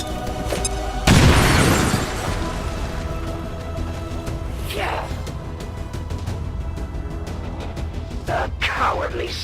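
A bomb blast in the XCOM 2 video game, a loud boom with a crackling burst lasting about a second near the start, followed by game sounds and scattered rumbles, with voices speaking over the mix.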